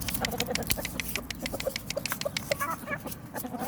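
Chickens and roosters clucking and scratching about nearby, with short repeated calls over a busy, rustling background; no talking.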